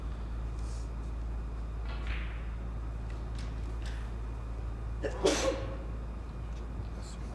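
During a professional snooker match, a single sudden sneeze bursts out partway through a quiet arena atmosphere. It is moderately close, with soft shuffles and small knocks before it.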